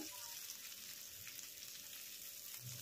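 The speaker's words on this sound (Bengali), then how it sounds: "পেঁয়াজটাকে আমি ভেজে নেব" Chopped onion and whole cumin seeds fry in oil in a pan, a faint, even sizzle with light crackling that continues unbroken for a few seconds.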